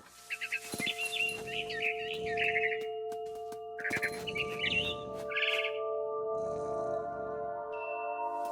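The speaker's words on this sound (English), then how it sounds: "It was a barn swallow going back to her nest." Frightened barn swallow in the video game What Remains of Edith Finch, giving several bursts of bright, rapid chirps near the mic over a steady ambient game hum, with a short pause between call bursts.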